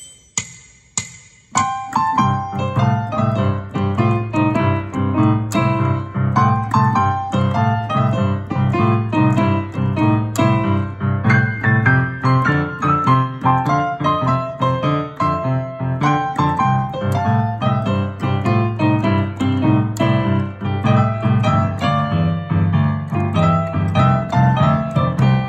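Solo piano plays a boogie woogie blues with a driving rolling left-hand bass and bright right-hand figures, loud and continuous after a brief quiet start.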